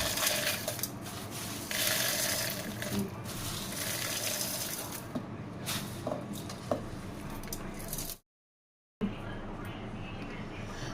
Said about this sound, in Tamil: வாங்க இப்போ எல்லாத்தையும் போட்டு மிக்சியில் அரைச்சிக்கலாம்.